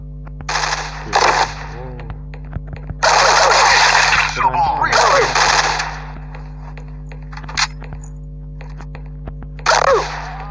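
Bursts of rapid gunfire from a gun in a Minecraft game, several loud volleys separated by short gaps, with someone speaking Thai between and over the shots.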